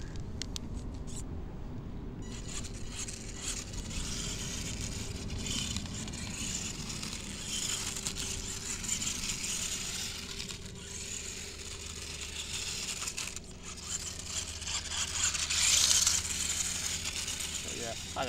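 A Pinecone Model 1/16 Whiskey Buggy RC car drives with a thin, steady electric whir and ratcheting gear chatter, fairly faint, with occasional muffled talk in the background.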